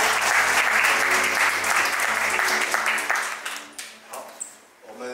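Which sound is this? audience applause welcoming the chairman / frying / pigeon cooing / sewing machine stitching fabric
audience applause welcoming the chairman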